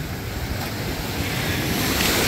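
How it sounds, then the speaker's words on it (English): Ocean surf rolling onto Panama City Beach, a loud continuous wash of breaking water building in strength, with no voices. "These waves are knocking me down."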